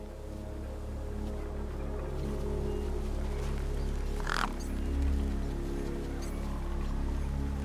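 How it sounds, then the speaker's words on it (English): In Beyond a Steel Sky, a gang of birds hovers hungrily near a corpse; a single short crow-like caw rises midway over a constant low mechanical hum. "The gang birds were eyeing up the corpse hungrily."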